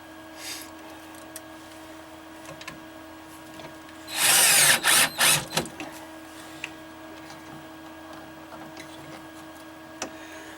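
A cordless drill drives screws to mount a new bilge blower on a boat: a loud, close burst of whirring that stops and restarts several times in quick succession, with quiet stretches on either side.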